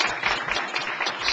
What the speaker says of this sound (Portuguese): eu queria pedir uma salva de palmas para você